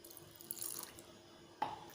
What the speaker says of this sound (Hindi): थोड़ा सा पानी हम और डालेंगे इसमें